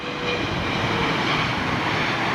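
Turkish Airlines Boeing 777-300ER powered by GE90-115 engines, a steady loud broadband jet roar that holds evenly throughout with no pauses.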